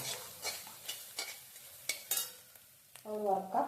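Quiet sizzling of curry leaves frying in a pan with intermittent scraping stirs, a few sharp bursts spaced irregularly before a short tonal sound at the end.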